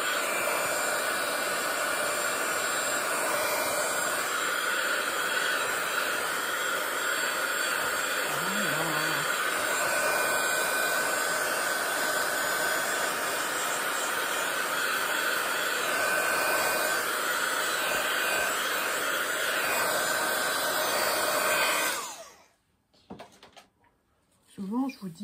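Hair dryer blowing on a Christmas and New Year paper craft page, a loud steady close whoosh running for about twenty seconds before cutting off, followed by brief quiet handling noises.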